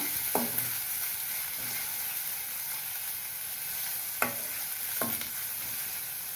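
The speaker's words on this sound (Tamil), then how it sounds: "ரெண்டு வெங்காயம் பொடியாக அரிஞ்சு வச்சது அதை போட்டு வதக்கிக்கலாம்" Finely chopped onions sauté in a pan with a continuous close sizzle, punctuated by a few sharp spoon clacks as they are stirred.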